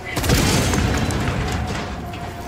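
A grenade blast in the video game Helldivers 2 gives a loud, booming explosion that rumbles and trails off over a couple of seconds, with a voice faintly present underneath.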